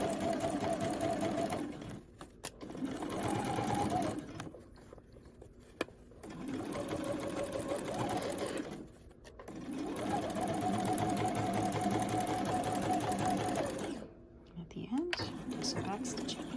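A sewing machine runs a regular straight stitch with back stitching on a quarter-inch seam of a breast form, whirring in several long bursts separated by brief pauses, close by.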